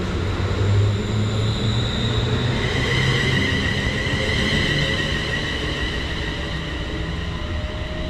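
A London Northwestern Railway train rumbles steadily close by at Lea Hall station platform, its low roar and high metallic whine holding constant throughout, with no voices.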